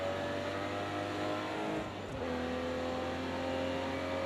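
Aston Martin DB11 in Project CARS 2 at Bathurst, its engine droning under load, dipping briefly near the hairpin, then pulling again with a steady rising roar; close and continuous.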